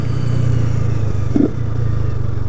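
A 250cc motorcycle running without an air filter, on its original exhaust, idles with a steady low engine drone, with one brief rev burst partway through.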